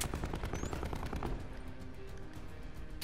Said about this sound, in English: Sentry turret coming online.